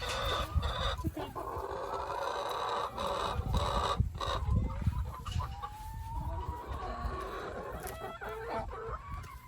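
Pet chickens squabble close by, clucking and squawking in agitated bursts amid scuffling and flapping, with a rooster crowing and some wing or body thumps, no talk.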